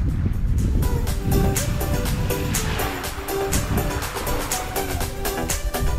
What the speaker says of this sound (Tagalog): Sarap ng ihip ng hangin.